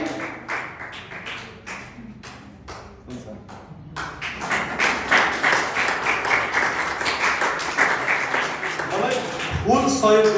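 Congregation at a church inauguration breaks into sustained, loud applause after a few sparse early taps, clapping dense and steady for several seconds until a voice cuts in at the end.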